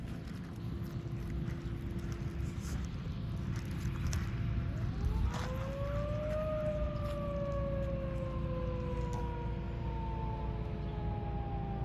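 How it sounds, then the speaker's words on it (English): Outdoor warning siren sounding during a test: a steady tone is joined midway by a loud wail that climbs, then slowly sinks over several seconds, heard outdoors over constant wind noise. "We'll start with the siren test."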